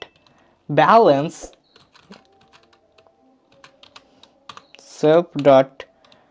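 Keystrokes on a computer keyboard as Python code is typed, a scatter of faint clicks between two short bursts of a nearby voice talking.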